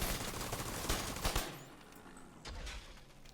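A deployable turret fires in the video game The Division 2. Dense, rapid bursts of gunfire crackle loudly for about a second and a half, then taper into scattered shots and softer impacts.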